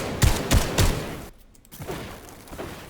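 Gunfire from a sniper rifle in the Fortnite video game, with a few sharp close shots in quick succession followed by fainter game sounds.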